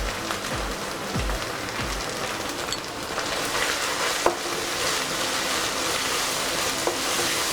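Masala with turmeric fries in a pan for a drumstick chicken curry, giving a dense, continuous rain-like sizzle with a few faint scrapes from stirring and no voices.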